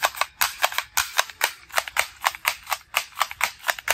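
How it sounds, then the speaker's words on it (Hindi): A toy shotgun fires a fast, steady series of loud, sharp snapping bangs at close range with no pauses and no voices. "ये है शॉटगन ये है शॉटगन"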